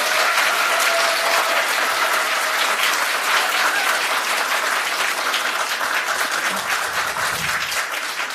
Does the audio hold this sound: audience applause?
yes